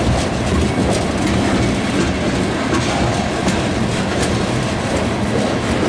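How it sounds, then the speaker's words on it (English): A CSX freight train carrying ethanol loads rolls past close by on the SFC line near Belmeade Road, a loud continuous rumble with steady clickety-clack of wheels on rail joints throughout. "Now, I saw this train coming through Lincoln."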